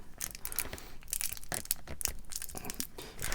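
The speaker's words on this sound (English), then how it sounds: "I had a screwdriver that's quite handy for poking holes in plastic bags, so I can open them quite easily." Plastic bags are punctured and torn open with a screwdriver while unpacking Hachette 1:2 scale Terminator model parts: close, quiet bursts of crinkling and tearing plastic in quick irregular succession, with no voice.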